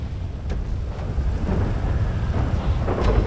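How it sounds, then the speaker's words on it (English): A thunderstorm in Grand Theft Auto Online, with steady heavy rain hissing throughout and low rolling thunder rumbling underneath, a few sharper crackles standing out, no voices. "Quite a bit of a stormy day today"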